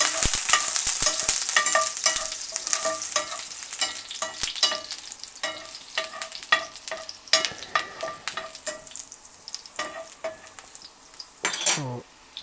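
Cubed garlic frying in hot oil for lentil dal, a loud close sizzle with frequent clinks and scrapes of a spoon stirring in the pan.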